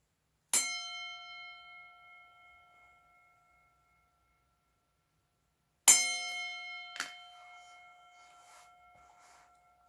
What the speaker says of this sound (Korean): 자유의 종소리.